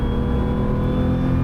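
A 1981 Porsche 911 SC with its air-cooled engine drives past close and loud in a brief, steady burst of engine sound with no talking.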